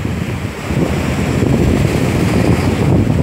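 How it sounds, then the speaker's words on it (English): Strong ocean waves on the beach at Stalida, Crete, a loud continuous roar of surf mixed with heavy wind buffeting, steady throughout with no voices. "the waves are just really strong"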